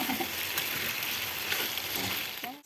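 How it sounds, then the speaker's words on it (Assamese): Meat fries briskly in a pan, a dense close sizzle that runs steadily throughout, with faint stirring scrapes here and there. "মাংসটো অলপ ভাজি ল'লোঁ"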